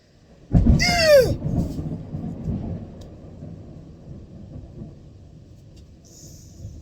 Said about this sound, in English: Oh, I hate thunder.